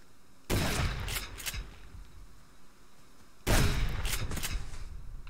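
Gunfire aimed at a wolf in a survival video game, two loud sharp bursts of shots about three seconds apart, each trailing off with a rattling echo over a quiet background.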